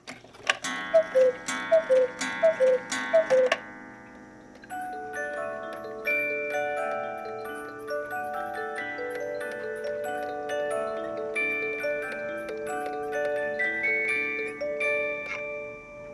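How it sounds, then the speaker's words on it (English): Several sharp chime-like strikes and cuckoo calls from eight-day cuckoo clocks ring out at first, then a tinkling mechanical melody plays on steadily, bright and music-box-like. "it does everything, music, cuckoo hour, half hour."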